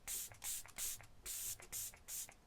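A facial mist spray pumps out a rapid, steady series of short, close hissing spritzes, about six bursts in under three seconds, with no voice over them.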